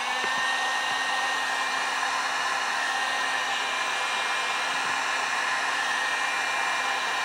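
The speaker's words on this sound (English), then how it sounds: "I take the heat gun" A heat gun blows a steady, loud hot-air roar across painted pottery to dry it, running continuously without a break and with no voices over it.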